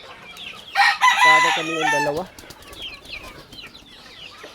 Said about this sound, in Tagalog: Dami na kasing manok guys, oh.